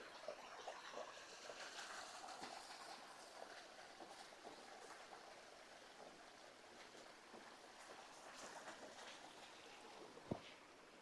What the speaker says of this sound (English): I can actually hear water